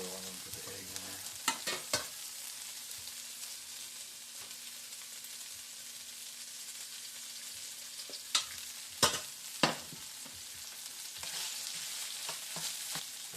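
Eggs frying in oil in a pan while making migas, a steady close sizzle throughout with scattered scraping and stirring clicks in bursts, no talk.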